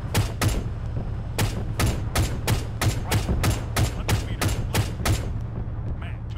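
Gunfire in the military shooter Arma 3: a steady run of about fifteen loud single shots at a near-even pace over constant engine rumble, with talking in between.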